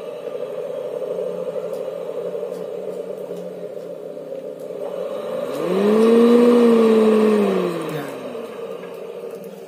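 A homemade snail-shell blower, rebuilt to run on a DC motor with PWM speed control and powered by a car battery, hums steadily. Its pitch rises into a louder whine midway, holds briefly, then drops back to the lower drone.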